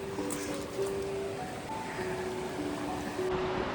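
Water runs in streams between bare, leafless trees in winter, a steady broadband rushing wash that fills the scene, with faint tonal hum and no talk.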